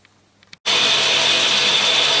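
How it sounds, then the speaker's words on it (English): A tool grinder with its head tilted up grinds the teeth of a woodruff cutter, a steady loud broadband whine starting abruptly after a brief quiet moment and holding constant to the end. "Here we are running the grinder with the head tilted up, doing the second lot of teeth."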